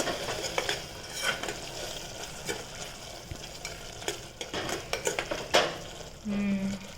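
Coriander-cumin powder being stirred into an oily cooking pan, with soft continuous sizzling and frequent metal spoon scrapes and clinks against the pan, fairly quiet and close.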